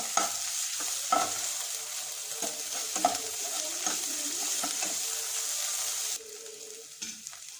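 Chopped green chillies frying with golden onions in a pan for a jackfruit curry, a continuous close sizzle broken by repeated stirring scrapes and clinks.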